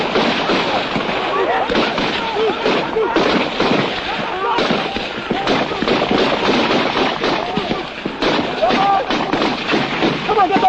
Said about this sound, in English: Most of their bullets are going into the ground ahead.